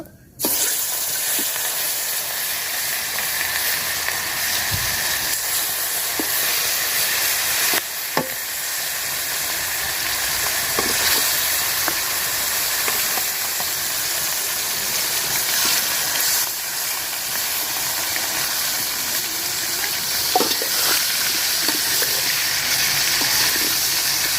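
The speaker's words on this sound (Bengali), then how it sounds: "মাছটা দেখেন আমি হালকা করে ভাজিয়ে নিচ্ছি" Shing fish, rubbed with turmeric and salt, frying in smoking hot oil in a pot: a constant loud sizzle and hiss with occasional spatters and faint stirring taps, up close for the whole stretch.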